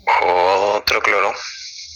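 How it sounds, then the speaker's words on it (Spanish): Small dog growling and whimpering up close, a loud, strained, tonal whine broken by a brief gap and then trailing off into a thin high whimper, heard alone. "¿De quién es el perrito?"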